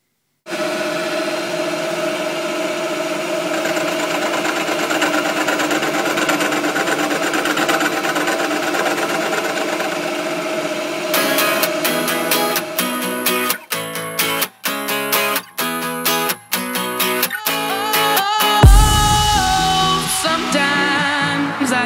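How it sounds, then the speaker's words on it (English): A machine takes about 14 mm off the top of a Ford crankshaft to lighten it. A steady, whining mechanical hum holds for some seconds, then breaks into choppy bursts and cutting noise near the end, close up. "So we're taking about 14 mil off the top of this."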